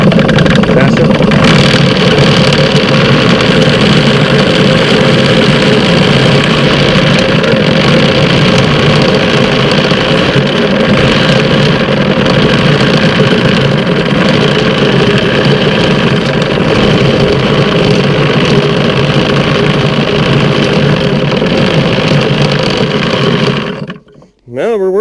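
A homemade bird plucker spins steadily, rubber fingers churning against a bird, a loud continuous motor drone with rattling under occasional voices, cutting out abruptly at the very end.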